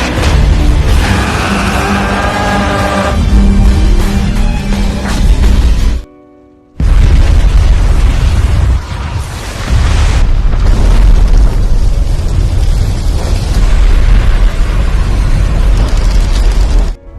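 Loud, sustained booming bomb blasts in an anime roar and crackle, cut by a brief silent gap, then a second thunderous explosion rumbles on heavily.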